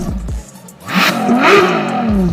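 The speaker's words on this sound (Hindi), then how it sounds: "आप ये एक्सपेक्ट करोगे ना कि इसका एग्जॉस्ट कुछ ऐसा होना चाहिए" A sports car, the DC Avanti, revs its exhaust once and swells into a loud nearby roar that holds steady for over a second, with no talking.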